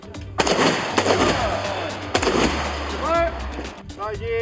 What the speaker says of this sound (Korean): 본격적인 사격 훈련이 실시되면 요란한 총성이 깊은 산중에 울려 퍼집니다.